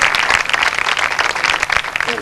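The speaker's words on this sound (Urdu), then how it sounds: "انہی تالیوں میں تالیاں بجتی رہیں گی" A congregation at a church service applauds, with steady dense clapping that stays fairly loud throughout, with voices mixed in over it.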